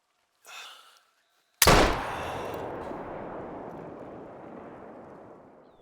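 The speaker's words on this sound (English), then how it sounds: "Now I'ma shoot this guy. We're gonna use the 470 this time." A .470 rifle fires once in a hunting game set on open terrain: one sharp, loud blast followed by a long rolling echo that fades slowly, preceded by a brief soft breath-like sound.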